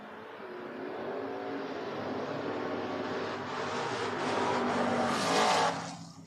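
Drag racing cars, including a Mustang, roar continuously at the Door Wars drag strip, engines building loudly toward a peak before cutting off near the end.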